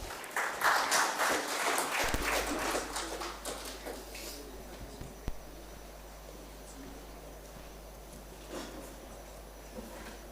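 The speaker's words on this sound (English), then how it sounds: "Can you welcome with a round of applause?" An audience at a hospital medical talk claps to welcome a speaker, a burst of applause that fades over several seconds into quiet room noise with a few scattered sounds.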